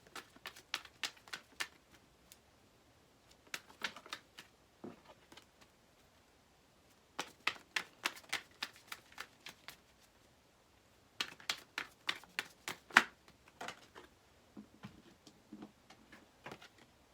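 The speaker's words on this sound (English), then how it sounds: "let's go ahead and pull a crystal card for you" Crystal cards being shuffled and drawn, heard as bursts of quick light clicking and flicking. Several separate runs come with short pauses between them, close by and crisp, and no one speaks.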